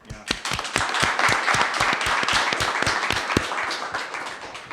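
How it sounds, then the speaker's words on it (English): An audience claps for a guest on a music talk show, a round of fairly close, distinct handclaps in a quick irregular patter that builds and then slowly thins out. "Let's give him a round of applause."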